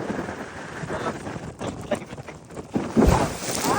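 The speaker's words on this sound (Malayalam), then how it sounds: "എന്തായാലും നല്ല തണുത്ത കാറ്റടിക്കുന്നുണ്ട്." Cold wind blows across a deep-sea gillnet fishing boat out at sea, rumbling gusts buffeting the microphone in uneven surges, strongest near the end.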